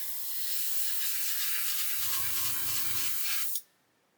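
A short test burst of clear coat from a spray bottle during scale model finishing: a close, steady hiss lasting about three and a half seconds before cutting off sharply, with a faint low hum midway.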